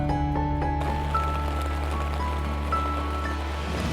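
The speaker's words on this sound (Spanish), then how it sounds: "Con el sonido de la lluvia y lo fresco del bosque nuboso, vamos a dormir muy rico" Rain falls steadily in a cloud forest at night along the Inca Trail, a continuous soft hiss with a low hum underneath and no talk.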